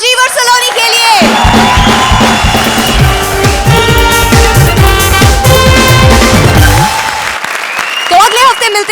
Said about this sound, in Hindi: तो एक आखिरी बार जोरदार तालियां राजीव और सलोनी के लिए